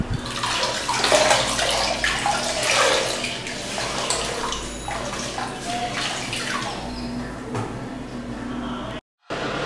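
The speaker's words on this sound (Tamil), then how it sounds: "சோப்பு நுரை வந்ததுன்னா திரும்ப இதே வாட்டரில் நீங்கள் அலசுங்க." Cloth diapers rinsed and swished in a tub of soapy water, with continuous splashing and sloshing that is busiest early, close and moderately loud, ending in a brief cut to silence.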